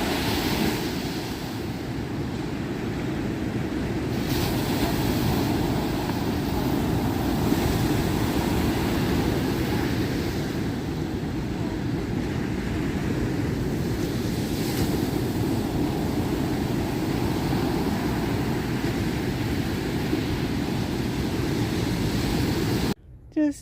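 Ocean surf rolls and breaks continuously on a beach by the D'entrecasteaux Cliffs, a steady loud wash of waves with wind buffeting the microphone, lasting throughout before cutting off abruptly.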